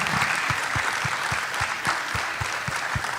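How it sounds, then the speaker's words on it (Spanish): Steady audience applause in a theatre setting, dense clapping throughout with a faint rhythmic low thump running beneath it. "Un aplauso, por favor."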